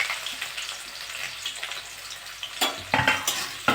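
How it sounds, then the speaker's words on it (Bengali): Chopped onions and five green chillies fry in hot oil with toasted whole cumin, a steady close sizzle punctuated by clinks and scrapes of stirring that grow busier toward the end. "পেঁয়াজটা একটু লাল লাল করে ভেজে নিয়েছি।"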